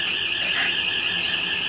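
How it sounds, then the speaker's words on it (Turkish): Smoke alarm going off in a home kitchen while risotto cooks, a steady, shrill, continuous electronic tone at moderate loudness with no talk. "Duman alarmı çalıyor."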